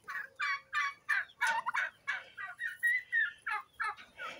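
A turkey in a poultry yard gobbles in a quick, rhythmic run of about a dozen short warbling bursts, close and moderately loud, with no talk.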